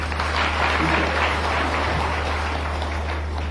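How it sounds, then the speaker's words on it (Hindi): Audience applause at a political interaction event with women, dense and even clapping sustained at full strength across the whole stretch over a low steady hum. "बहन जी के लिए भी ताली बजाएं।"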